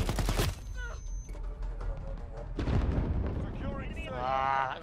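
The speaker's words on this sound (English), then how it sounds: "I got stuck by a grenade." A grenade explodes in Call of Duty Modern Warfare, a sharp burst followed by a rumbling blast, with other gunfire and game effects in the mix.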